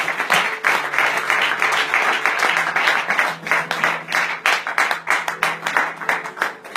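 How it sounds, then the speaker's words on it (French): A church congregation bursts into sustained, lively applause during a sermon, clapping steadily and densely throughout with a faint low tone underneath. "Est-ce qu'on peut acclamer le Seigneur?"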